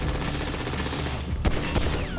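Rapid bursts of automatic gunfire and heavier shots crackle loudly and continuously in a Grand Theft Auto V shootout during the Repossession mission, with several sharp blasts standing out near the end.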